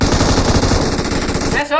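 Loud, rapid automatic gunfire from the PUBG Mobile battle royale game rattles in a continuous close burst, cutting off sharply near the end.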